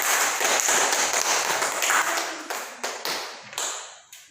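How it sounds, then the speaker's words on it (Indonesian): A classroom of students applauds a group that has just presented: dense, fairly close clapping that thins into a few separate claps and then fades. "beri tepuk tangan untuk kelompok 3"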